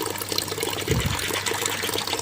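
Water flows from a gas geyser pipe after the line has been cleared, a continuous close gushing splash with a thicker burst partway through.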